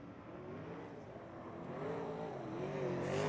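Super saloon race cars come through a track corner with a rising engine drone whose pitch bends and climbs as they accelerate out. The sound grows louder and nearer over a few seconds, and nobody talks.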